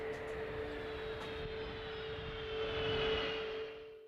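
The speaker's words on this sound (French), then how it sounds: "Pour son dernier vol commercial, l'avion supersonique atterrit à New York en octobre 2003" The Concorde supersonic airliner landing at New York on its final commercial flight in October 2003, a steady distant jet engine roar with a sustained whining tone, swelling slightly before easing off.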